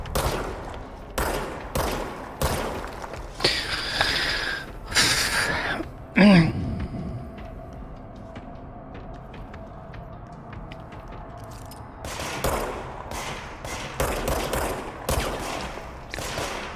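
Video game gunfire comes in dense, rapid bursts of shots for the first six seconds, then a quieter stretch of ambient rumble before another run of close, loud volleys near the end.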